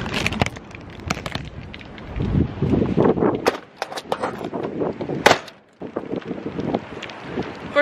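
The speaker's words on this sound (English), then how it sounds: "It is windy outside." Strong gusting wind outdoors near a shed, roaring and buffeting the microphone in uneven surges with sharp crackling bursts, loud and close throughout with a brief lull partway.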